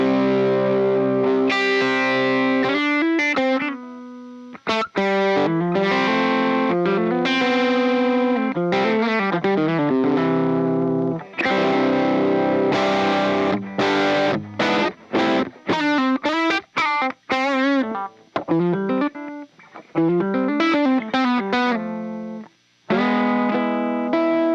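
An electric guitar runs through a mini pedalboard with distortion and tone-shaping pedals switched on, playing a loud, continuous stream of fuzzy, sustained chords and bent lead notes with chorus-like shimmer and only brief gaps.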